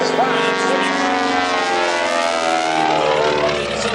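A Beech 18 twin-engine airplane sustains a loud, steady engine drone through an aerobatic barrel roll, the tone shifting slightly as the nose comes up, with a commentator's voice faintly mixed in.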